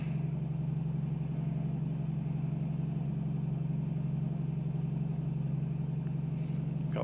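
A2A Comanche aircraft engine in Microsoft Flight Simulator idling near 1000 RPM, a steady low droning hum that holds evenly throughout without change.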